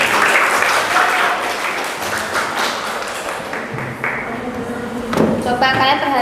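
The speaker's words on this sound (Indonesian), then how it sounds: "Tepuk tangan buat Majidah ya" Schoolchildren in a classroom clap for a classmate, brisk uneven clapping with a few taps and thuds, close and fairly loud, while a teacher's voice and children's voices talk over and after it.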